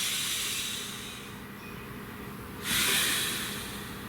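A deep breath drawn in and let out close to the microphone, a long breathy hiss that fades and then swells again into a strong exhale, with no speech.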